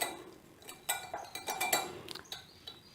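Spoon clinking and scraping against a container while stirring a homemade bug bite salve that has begun to solidify, giving irregular light clinks and taps in a quiet room.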